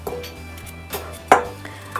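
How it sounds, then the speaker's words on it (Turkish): A few knife strikes on a cutting board while dicing potatoes into cubes, quick and sparse, including one sharper chop, close by with low background hum. "Uzunlamasına kesiyorum ve çok ince ya da kalın olmayacak şekilde küpler halinde doğruyorum."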